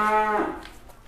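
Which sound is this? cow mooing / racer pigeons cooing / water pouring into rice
cow mooing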